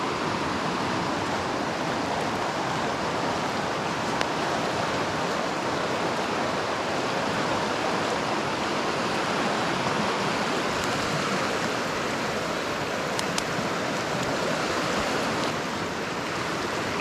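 A river in the winter Oregon Coast Range rushes steadily, a dense, continuous roar of moving water, close and unbroken, with no voices.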